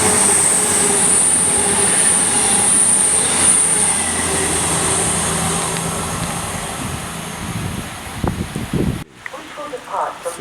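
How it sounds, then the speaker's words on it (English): A non-stopping train runs fast through a station platform in the Birmingham area, a loud sustained rumble with high wheel squeal that cuts off abruptly near the end. "The train now approaching platform 1 does not stop here."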